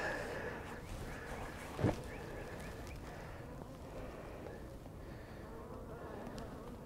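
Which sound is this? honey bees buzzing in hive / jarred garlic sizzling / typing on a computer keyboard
honey bees buzzing in hive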